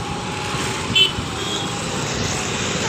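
Steady road traffic murmur on a busy street, a continuous wash of passing cars and vehicles with one brief louder swell near the start, under quiet background voices.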